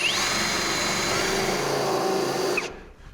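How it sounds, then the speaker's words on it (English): A power drill whirs steadily at high speed for a few seconds, drilling a pilot hole, then winds down and stops abruptly. "Now we'll go ahead and drill a pilot hole,"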